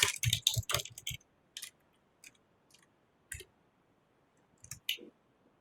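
Bursts of keyboard clicking as code is typed on a computer keyboard, a quick flurry of keystrokes at first, then sparse isolated taps with pauses between, close and clear with no talk.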